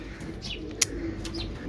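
A pigeon held in the hand coos softly and steadily, with a few brief chirps and one sharp click, close up and with no talking.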